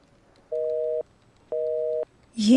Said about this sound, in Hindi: ये क्या, नैन्सी का नंबर बिजी मिल रहा है?